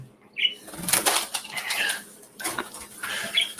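A pet bird flaps its wings in short, close, papery bursts, several flurries over a few seconds in a quiet room.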